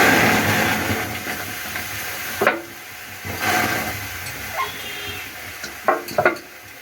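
Raw mango pulp hitting a hot wok while making aamsotto, a steady broad sizzling hiss that swells and fades in waves, with a few sharp clatters of utensils near the end.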